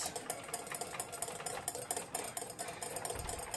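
Hollandaise sauce is whisked in a bowl with a rapid, steady rhythm of metallic scraping ticks, close and moderately loud, with no talking.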